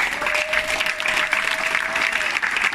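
A church congregation claps in a dense, steady round of applause at a Sunday service. The clapping is loud and continuous throughout, with a faint sustained tone under it.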